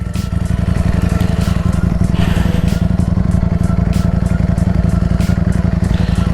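A motorcycle engine runs close by in a loud, steady, rapid idle with fast regular pulses and faint clattering on top, and no voices are heard.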